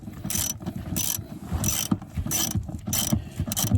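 Ratchet wrench loosening a seat bolt in a 2004-2008 Acura TL, heard as repeated bursts of close metallic clicking in quick strokes with short pauses between them, alone and without talk.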